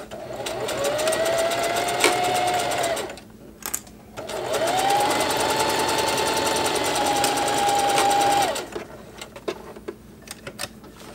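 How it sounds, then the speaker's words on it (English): A Singer HD sewing machine runs a wide zigzag stitch along a double-fold hem over elastic in two sustained whirring bursts separated by a short pause, ending with a few faint clicks. "I'm going to put a wide zigzag stitch on a double fold hem on top of this"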